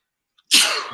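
A single sharp sneeze bursts out close and loud, a sudden explosive spray of breath that tails off over the next half second, preceded by a tiny faint intake.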